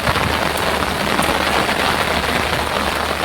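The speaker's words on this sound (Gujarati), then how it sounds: "ગાઈસ ઘણો વરસાદ છે ચાલુ હાલમાં અંદર" Heavy rain pours down in a dense, even hiss of drops striking surfaces, continuous and close for the whole short stretch with no voices.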